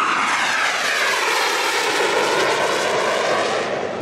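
A low-flying propeller airplane passing between houses, a loud, close, sustained engine roar that fills the whole clip.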